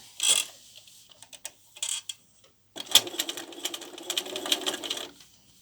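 A sewing machine stitches a straight line across 60-degree quilt binding, running in short bursts at first, then continuing steadily and close by after a brief pause.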